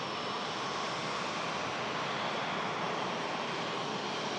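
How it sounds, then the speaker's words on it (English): A Singapore Airlines Airbus A350 jet taxis at Manchester Airport, its engines giving off a steady, broad roar with an even rumble that holds at a constant level throughout. "Now, another stunning aircraft on the taxi, guys."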